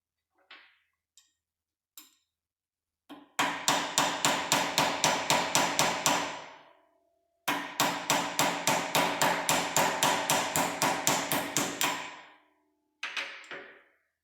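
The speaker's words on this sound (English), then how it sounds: "So now I just got to press this bushing out." A bushing is pressed out of a surface grinder part with loud, sharp metallic strikes, coming in two long rapid series of evenly spaced blows plus a few isolated hits and a short final burst, close and with no talk.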